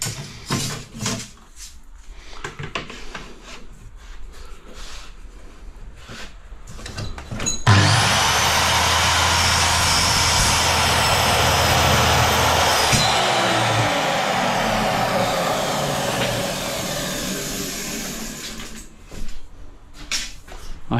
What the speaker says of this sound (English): I cut all my aluminium that I need without adjusting my saw